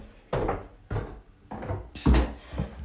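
An indoor door in a holiday rental with heaters and a snooker table, giving a few wooden thunks and clunks, moderately close and sharp, with one heavier knock near the end and no talking.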